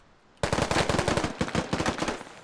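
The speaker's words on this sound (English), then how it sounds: "Nos takes two bullets from Jericho and Delshawn." Sustained burst of rapid rifle fire in the military shooter Squad, starting abruptly after near silence and rattling loud and close for about two seconds.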